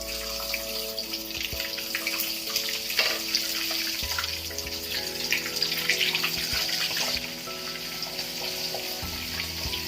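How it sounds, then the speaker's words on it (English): Fish being fried in hot oil, three at a time: continuous crackling sizzle with wet bubbling and spatter, moderately quiet and steady, with no talk. "I'm gonna fry 3 by 3 because I have 6 fish here."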